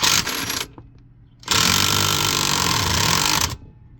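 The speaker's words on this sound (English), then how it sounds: "you're going to want to have an impact available to remove this bolt" A Hart impact wrench works a harmonic balancer bolt on a 3800 V6 in two loud buzzing hammering bursts, a short one then a longer two-second run, close up with no talk.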